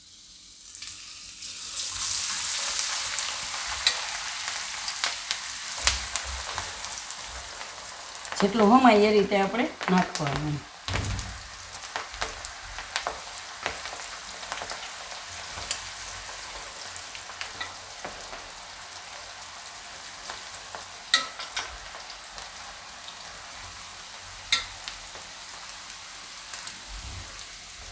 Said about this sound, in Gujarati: હવે આપણે આમાં તળી લેવું.